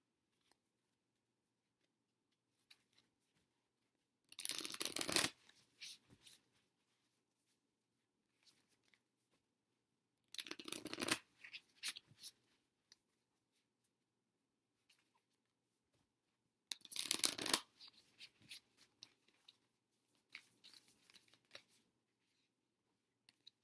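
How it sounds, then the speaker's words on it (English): An oracle card deck (Angels and Ancestors) is shuffled in three short, crisp riffling bursts a few seconds apart, close but soft, with quiet gaps between them. "I want to pull an oracle card from my Angels and Ancestors Oracle deck."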